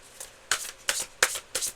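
Tarot cards are shuffled by hand in four quick, crisp riffling bursts, close and alone.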